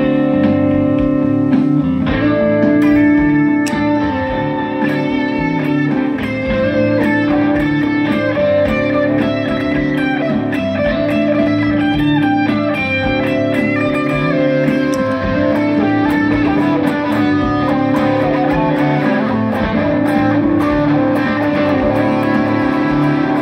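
Saved loop from a Boss RC-3 Loop Station plays back after being powered off and on, giving dense, steady layered music with sustained tones and a constant level for the whole stretch, with no voices.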